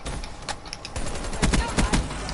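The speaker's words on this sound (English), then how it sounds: "I'm really freaking hip firing." Hip-fired automatic weapons rattle in Call of Duty: Black Ops 3, with rapid sharp bursts that thicken toward the end into a dense close volley.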